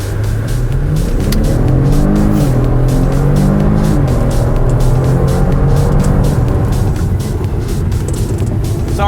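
A 2021 Kia Stinger V6 330S launches hard from standstill, its engine roaring loudly and climbing through rising pitch sweeps with gear changes, a continuous close, powerful acceleration with a hint of tire noise and no talking.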